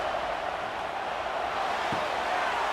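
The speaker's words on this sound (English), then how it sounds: "Decibels rising as the crowd gets behind this defense on third down." Simulated stadium crowd in the College Football 26 video game, Pittsburgh Panthers at Florida State Seminoles, a constant loud roar on third down with one brief thump near the end.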